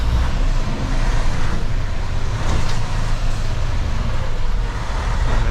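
A local delivery truck idles and rumbles as it backs its trailer toward a ramp beside a building, a steady loud low engine drone close by throughout, with no talking.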